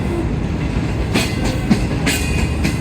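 Hitachi locomotive 8087, a standing Pakistan Railways engine near Pindi, heard as steady rail and wagon rumble with a few sharp metallic clicks and knocks over a continuous low drone, fairly close.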